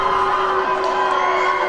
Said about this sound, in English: The crowd is trying to rally Scott Steiner, get him going.